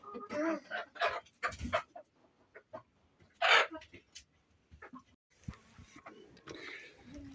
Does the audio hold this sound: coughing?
no